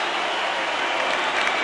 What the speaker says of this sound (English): Notoriously silent crowd is quiet no longer